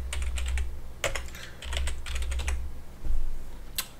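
Keys on a computer keyboard clatter in quick bursts of clicks, with short pauses between runs, as a password is entered during a Deepin Linux 15.7 install, over a low steady hum.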